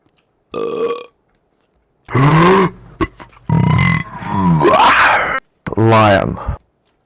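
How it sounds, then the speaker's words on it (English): Repeated loud burps from players holding a burp contest over PUBG game voice chat, some long, drawn-out and groaning, separated by short pauses. "You want to have a burp contest?"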